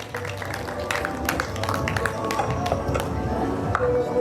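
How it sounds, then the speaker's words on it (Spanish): Applause rises for the godmother at a baptism party in a crowded hall, a dense spread of hand claps running steadily throughout, with voices mixed into the crowd noise. "Fuertes los aplausos para ella, por favor."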